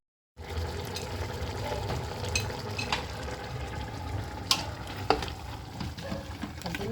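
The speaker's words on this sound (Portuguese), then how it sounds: "Nós vamos agora aguardar ela ficar refogando aqui e eu mostro mais pra vocês" Beef and vegetables for vaca atolada sauté in a pot with a steady, close sizzle and bubbling, punctuated by a few sharp clinks of a utensil against the pot, with no one talking.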